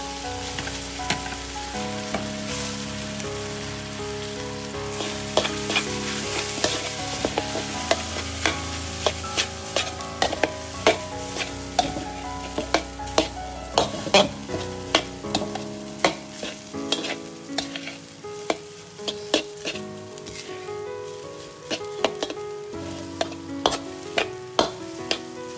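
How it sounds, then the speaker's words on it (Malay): Rice is stir-fried with sautéed chicken for nasi goreng, a steady sizzle with rapid, increasingly sharp clacks of a spatula on the pan, close and lively, building into a busy rhythmic scraping without any voices. "Yang terakhir sekali, masukkan nasi tadi. Dan gaulkan bersama bahan yang telah kita tumis sebentar tadi."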